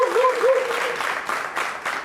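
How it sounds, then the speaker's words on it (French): Studio audience applauding on a French television game show, a moderate burst of clapping that swells and pulses over about two seconds, with a voice briefly audible over the start. "Est-ce qu'on peut l'applaudir?"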